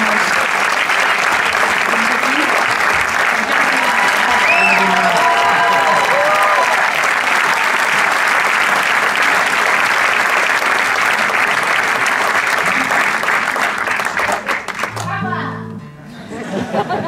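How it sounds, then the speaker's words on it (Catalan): Loud, sustained applause from a concert crowd for a singer, dense clapping with scattered laughter and chatter mixed in, fading toward the end as a voice begins speaking. "I un fort aplaudiment, sisplau, per la Dolors Cabra, que ha fet aquestes veus de nou tan preciosa"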